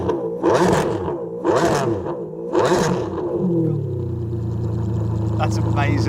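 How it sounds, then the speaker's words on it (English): A Ferrari Enzo engine blips through three sharp revs in quick succession, each rising and falling close by. It then drops to a steady, rumbling idle with a faint high whine toward the end. "Give me some more revs."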